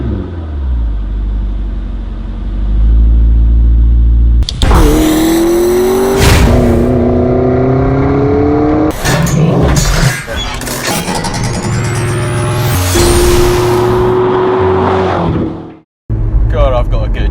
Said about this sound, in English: Today I'm driving a Mclaren 650S